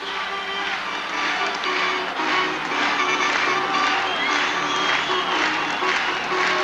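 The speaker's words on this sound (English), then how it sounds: "So the crowd having come to life in the 6th inning." Crowd at Yankee Stadium during a 1980 ALCS playoff game between the Royals and Yankees, a loud, sustained roar of cheering and applause filling the whole stretch without letting up.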